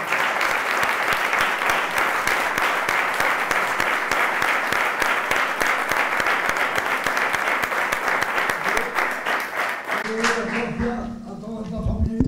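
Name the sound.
audience applause, ovation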